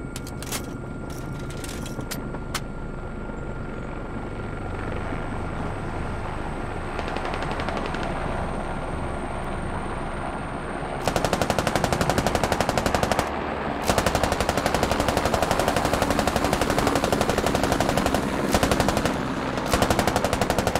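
Helicopter door-mounted machine gun in the Squad video game firing long rapid bursts over the steady drone of the chopper, with a few short pauses between bursts.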